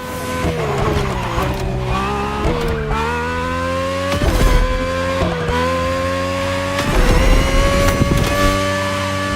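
Ferrari from the 1980s or 1990s driving in The Crew Motorfest, engine revving and climbing through gear shifts with dips between each, loud and continuous with brief tire noise.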